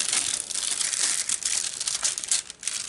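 Cellophane wrapping on a diamond painting kit crinkles and crackles loudly and close up as hands work it, a dense unbroken rustle that dips briefly near the end.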